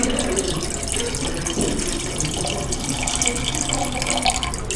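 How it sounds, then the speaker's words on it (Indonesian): Liquid runs into a volumetric measuring vessel during a calibration check, producing a continuous, fairly loud splashing rush that holds steady throughout, with no voices. "Sampai aliran utama dari cairan ini berubah menjadi tetesan yang bertetesan atau drop."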